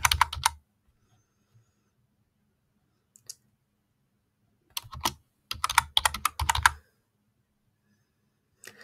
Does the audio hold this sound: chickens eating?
no